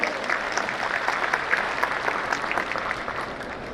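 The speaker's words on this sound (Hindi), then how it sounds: "हम सभी छात्र, शिक्षक और हम अम्बेडकर परिवार के लोग उनके स्वागत में ताली बजाना चाहेंगे" Students and teachers at a silver jubilee celebration applaud to welcome guests, a dense, steady wave of clapping from a large crowd that holds without a break.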